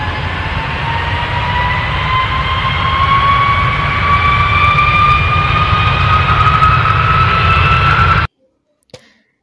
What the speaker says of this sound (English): A is for aeroplane.